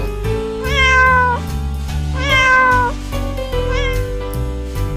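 A cat meows three times in a row, each call drawn out and wavering, loud and close with short gaps between, with nobody talking.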